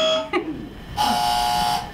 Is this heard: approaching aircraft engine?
no